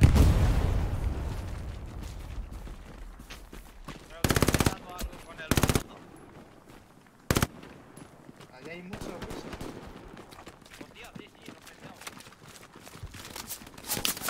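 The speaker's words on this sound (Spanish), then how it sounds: "¡Nos disparan derecha!" Machine-gun bursts and rifle fire crack out in the Hell Let Loose Stalingrad battle, with several loud sustained bursts and scattered shots between them, and soldiers call out over the shooting.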